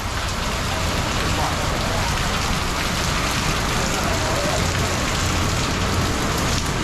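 Heavy rain pours continuously on the streets of Taipa Village in Macau, a dense, loud, unbroken wash of drops splashing on surfaces with no pauses.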